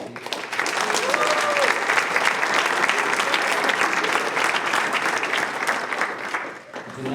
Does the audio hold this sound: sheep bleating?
no